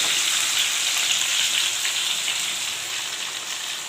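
Fish frying in a hot kadhai makes a loud, steady, dense crackling sizzle that carries on without a break and eases off slightly toward the end.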